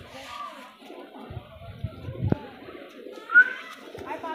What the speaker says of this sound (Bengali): তো বন্ধুরা দেখতে পাচ্ছ আর একটা পায়রা নিয়ে চলে এসেছি